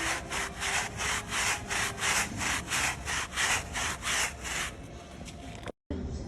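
A brush scrubs a surface with steady back-and-forth strokes in a regular rhythm, close and fairly loud, working in a diluted concentrated cleaning solution to lift dark stains, then stopping abruptly near the end.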